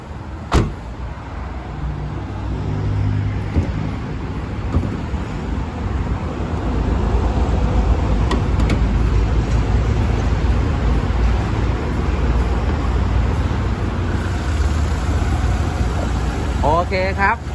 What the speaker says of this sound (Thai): สตาร์ทเครื่องได้เลยนะครับ จะได้ฟังเสียงเครื่องนะครับว่าเพราะขนาดไหนนะครับ